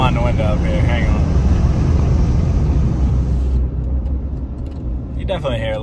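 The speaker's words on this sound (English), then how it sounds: "You definitely hear a little bit more turbo noise." A 6.7 Cummins diesel truck with its intake silencer removed, heard from inside the cab, gives a steady broadband rumble and a faint turbo whine for several seconds. A brief voice comes in near the end.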